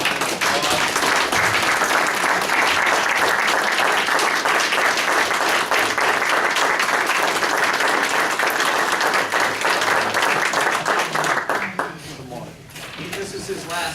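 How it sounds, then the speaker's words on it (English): A council meeting audience gives a retiring fire chief a long round of steady, dense applause that fills the room, then tapers off near the end as voices begin to talk. "I think we all owe him a hand of applause."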